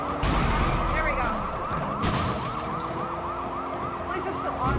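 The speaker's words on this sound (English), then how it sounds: "Police are still on me. Can I turn off the sirens?" Police car sirens wail in the video game Sleeping Dogs, a continuous warbling siren close and loud over a rumbling traffic and engine bed, with brief crash-like bursts.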